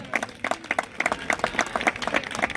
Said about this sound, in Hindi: तालियां रोनू भाई के लिए।